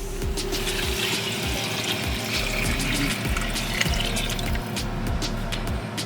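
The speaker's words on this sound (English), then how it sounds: "I'm going to add some boiling water." Boiling water pours steadily into a pot of channa and potato curry being made the old-fashioned Madras way, a continuous close liquid rush and splash lasting several seconds with no talk.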